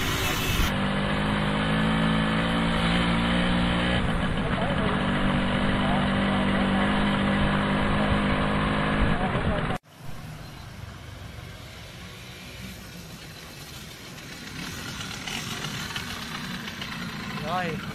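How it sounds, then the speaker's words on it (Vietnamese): A Simson S51 motorcycle engine with a German 16N1-11 carburetor idles steadily and loudly for about ten seconds, then drops abruptly to a quieter, rougher running sound that continues to the end. "Đó bạn thấy nè, đó xe vẫn đang nổ máy nè."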